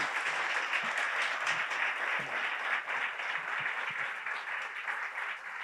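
Audience applause at a talk on diet and health, a dense steady wash of clapping from many hands that holds throughout.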